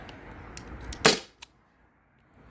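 A Byrna SD launcher running on a 12 gram CO2 cartridge fires one sharp, fairly soft pop, followed by a small click, in a quiet outdoor setting.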